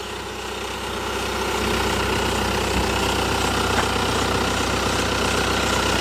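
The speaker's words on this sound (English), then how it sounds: "As you can hear, the engine sounds very normal." A 2004 Hyundai Santa Fe 2WD diesel idles with the hood open, a close, steady, rhythmic low clatter that grows slightly louder after the first second and then holds evenly.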